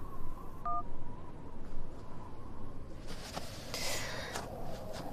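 A telephone line gives a brief electronic beep after a call is hung up, short and faint over quiet room tone, with no talk.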